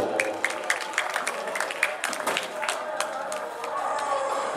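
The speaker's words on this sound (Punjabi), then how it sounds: "ਲੱਗੇ ਤਾਂ ਜ਼ੋਰਦਾਰ ਤਾੜੀਆਂ ਮਾਰੋ ਜਰਾ।" Crowd at a live outdoor mela clapping, a dense patter of many hands with sharp individual claps standing out, steady and lively for several seconds.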